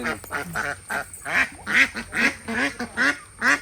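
A duck quacks repeatedly and close by, about nine loud nasal calls in a steady rhythm, with no talking.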